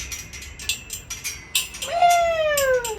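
A cat meows loudly and close by, one long drawn-out wailing meow that slides downward in pitch, following shorter bursts of rustling and faint noises.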